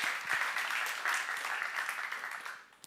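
A church congregation at a seminar applauding together, a dense sustained round of clapping heard from within the room that fades slightly toward the end.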